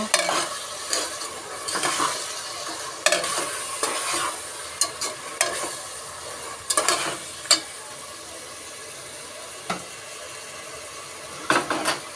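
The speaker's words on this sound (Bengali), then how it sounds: "এটাকে ভালোভাবে নেড়ে চেড়ে নেব" Fried rice with tomato sauce being stirred in a sizzling pan, a steady fry hiss punctuated by repeated sharp scrapes and clanks of the spatula against the metal, close and alone.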